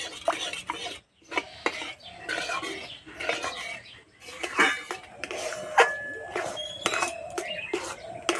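Semolina cooks over low heat in a pan for sweet pithe dough and is stirred vigorously, giving repeated close scraping and knocking strokes of a utensil against the pan in an uneven rhythm, with short pauses.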